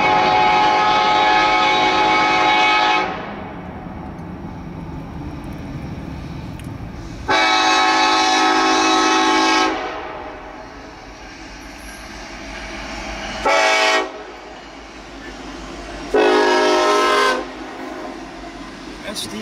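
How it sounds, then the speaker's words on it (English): A Union Pacific freight train led by an SD70AH locomotive passes with loud, long horn blasts, several sustained blows separated by pauses, over rumbling rail noise close by. "There is the train coming. Look at that."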